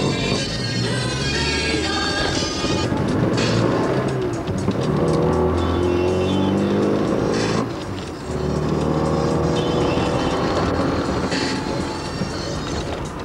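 A car engine roars loudly and continuously, revving up and down with a brief dip in the middle, alongside rumbling road noise.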